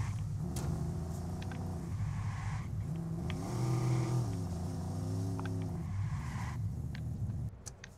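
A car driving in the video game Watch Dogs, a steady engine rumble and drone that rises and falls with revving, close and continuous with small clicks over it.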